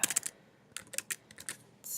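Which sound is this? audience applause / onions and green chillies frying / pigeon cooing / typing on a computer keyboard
typing on a computer keyboard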